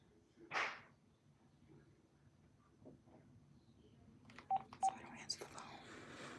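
Touch-tone telephone keypad beeps come in a quick short burst toward the end, following a sharp loud sound near the start and quiet background noise, with no speech heard.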